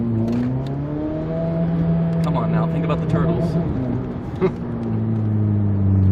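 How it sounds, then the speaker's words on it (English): The engine of a Batmobile-style car turns over and settles into a steady, droning hum with slight rises in pitch, running under casual conversation between several people. "Ah, oops. I put the engine on."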